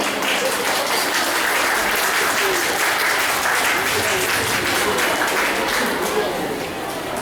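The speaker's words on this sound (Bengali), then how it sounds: "তোমরা জোরে করতালি দিয়ে" A crowd of parents and students applauds loudly at a school art centre event, a sustained wash of many hands clapping together with a faint murmur of chatter beneath.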